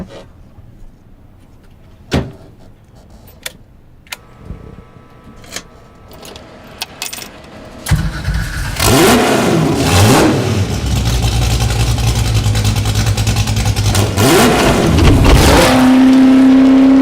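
A few scattered clicks and taps, then an engine cranks to life and roars loudly, revving up and down repeatedly before settling into a throaty idle.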